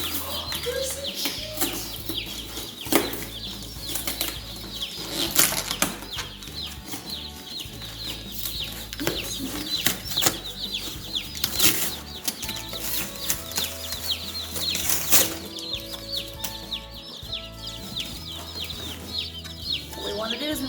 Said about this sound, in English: today's chick arrival day. So we've got 50 chicks in.